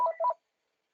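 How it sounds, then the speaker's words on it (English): Telephone touch-tone dialing beeps during a call with a trader: two quick paired tones, then silence and a single short click-like blip at the end, clear and close with no talk. "Who am I getting a call from? Another trader?"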